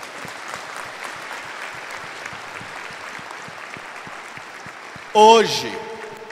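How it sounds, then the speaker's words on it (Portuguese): Congregation applause during a church homily, a soft, sustained spread of clapping heard from a distance that continues evenly, then a brief louder burst near the end. "Salva de palmas, minha gente."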